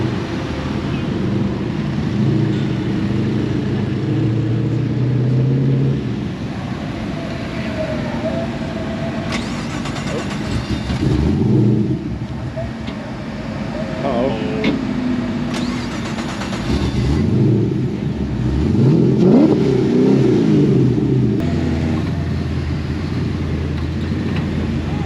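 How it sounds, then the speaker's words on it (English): A BMW race car with a sequential gearbox at Silverstone during a club enduro, its engine note rising and falling with gear changes, loud and fairly close, alongside other race cars idling and revving. "Green BM's got a sequential cog swapper in it and it sounds really good."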